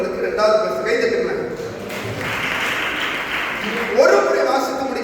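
Members of a church congregation clap in a brief burst of applause between stretches of amplified talk, which overlaps the clapping.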